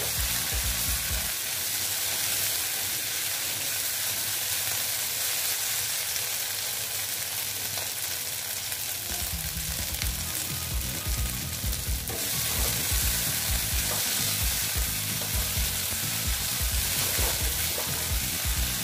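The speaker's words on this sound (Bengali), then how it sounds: "ভেজে দিচ্ছি ভালো মতন আদা আর কাঁচা গন্ধটা আর টমেটো কাঁচা গন্ধটা যাতে চলে যায়" Ginger and tomato fry in oil in a pan with a continuous loud sizzle, while a spatula scrapes and stirs them in repeated soft strokes throughout, no voices over the cooking.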